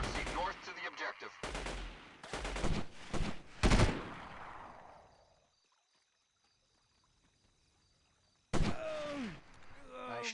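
Gunfire in Delta Force 2 cracks out in several loud, sharp bursts and single shots over the first few seconds, then trails into a long quiet stretch before voices and other sounds return near the end.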